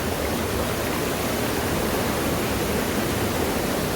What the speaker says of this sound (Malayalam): അവിടെ നിന്നും ഇവിടെ നിന്നൊക്കെ വെള്ളം വരികയാണ്.